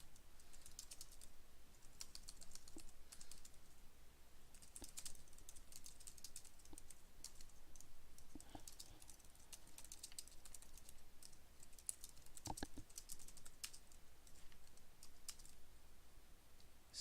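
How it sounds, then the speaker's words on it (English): Fingers tap out a letter on a computer keyboard, a quiet, fairly steady patter of key clicks with brief bursts and pauses, heard alone at low level. "now you can type in any information"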